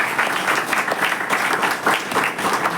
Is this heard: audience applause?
yes